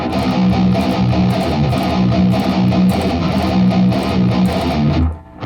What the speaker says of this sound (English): So the whole riff slow, one more time, goes like this.